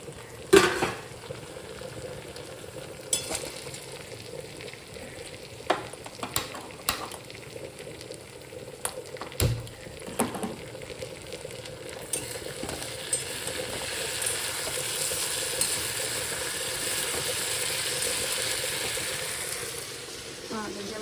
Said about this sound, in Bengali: এখানে আলু ভাজা